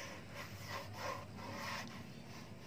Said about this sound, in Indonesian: jadi ini sudah tahap penggerindaan pertama